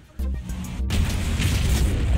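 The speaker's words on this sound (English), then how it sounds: "Shooting One Size 9 Torpedo One More Time" A size 9 torpedo fires and explodes in Star Citizen during a ship toughness test on an Aquila, a sudden loud boom that swells into a sustained rumbling roar.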